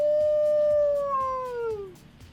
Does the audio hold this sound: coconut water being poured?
no